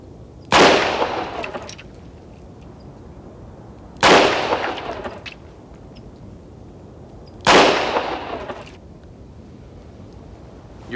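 Three loud, sharp handgun shots at a shooting range, evenly spaced about three and a half seconds apart, each with a short echoing decay and quiet between them.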